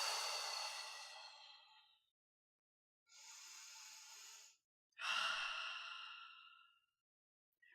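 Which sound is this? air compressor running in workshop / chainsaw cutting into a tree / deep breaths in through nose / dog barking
deep breaths in through nose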